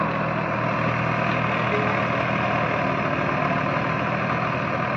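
A diesel vehicle engine runs steadily and continuously, a loud, even low rumble with no clear rise in revs and no voices.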